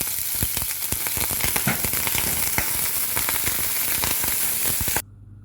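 Hot oil heated in a pan for an eggplant curry gives a loud, steady sizzle crowded with dense popping crackles, which cuts off abruptly after about five seconds.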